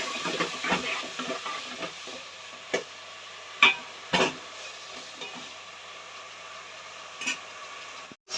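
Tomatoes and green chillies are stirred into a Nellore-style fish curry in a pan: soft scraping spoon strokes over a low sizzle, with a few sharper clinks against the pot, all close by and without talk.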